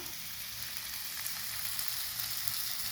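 Onions and jalapeño frying in hot oil give a steady, close sizzle that holds even throughout with no pauses, dense and continuous, with no one talking over it.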